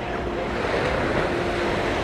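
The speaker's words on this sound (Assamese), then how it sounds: "এয়া সাগৰৰ ঢৌ" Sea waves at Juhu Beach make a steady, full roar of surf with a windy rush. The noise is continuous and close for the whole short stretch, and no voices are heard.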